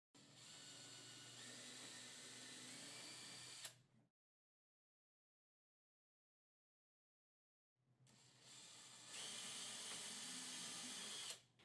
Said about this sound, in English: Drill 2 pilot holes 3/8 of an inch down through each of the verticals at the 18-inch and 28-inch marks.